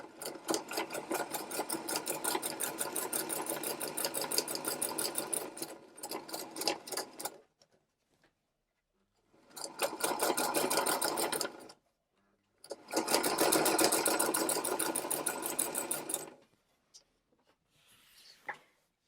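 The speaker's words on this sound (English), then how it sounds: "I'm sewing these blocks together now with a 1/4 inch seam." A sewing machine stitches Dutchman's Puzzle quilt blocks together with a 1/4 inch seam, running in three long fast bursts separated by pauses, then a brief final spurt, close and clear with no talking.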